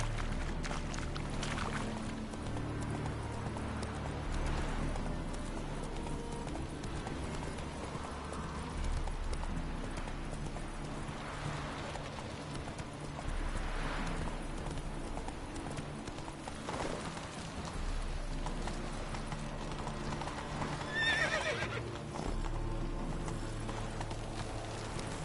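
Roach, a horse in The Witcher 3, gallops in steady, rapid clip-clop hoofbeats over a dense, continuous game soundtrack and ambience that runs the whole time without a break.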